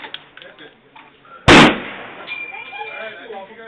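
A big gun fires one sharp, loud, close blast that rings out briefly. People talk before and after the shot.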